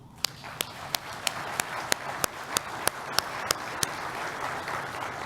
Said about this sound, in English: Let's recognize their efforts with a round of applause.